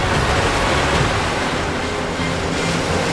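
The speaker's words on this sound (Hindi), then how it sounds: "अब तो ये जल नीचे उतर रहा है, हमें लील जाएगा।" A river in a TV drama surges and rushes in a steady, loud, broadband roar of churning water that holds without a break, with no voices.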